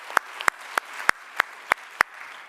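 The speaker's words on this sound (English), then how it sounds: "small round of applause for the organizers" Seven sharp, evenly spaced claps at a slow, steady pace, sounding like a small, sparse round of applause from a conference audience.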